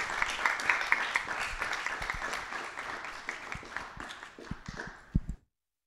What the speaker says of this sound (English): please give Mark a round of applause.